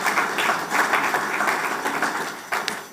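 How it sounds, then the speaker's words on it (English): Brief applause at an international trade seminar for the Secretary General of the African Continental Free Trade Area, uneven clapping with a few sharper individual claps standing out near the end, lasting about three seconds. "Another round of applause."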